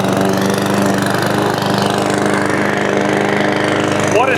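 An inexpensive Amazon Smartpower lawn mower runs loud and close, its engine droning steadily as it mulches overgrown grass with no pauses.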